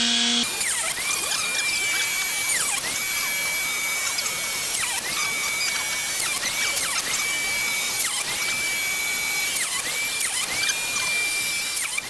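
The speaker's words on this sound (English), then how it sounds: "Okay, so I'm gonna be drilling in 3 holes," A power drill bores holes in a Sarge SK-404 knife kit, its whining motor repeatedly spinning up and cutting off in roughly two-second bursts, close and steady, with no voices.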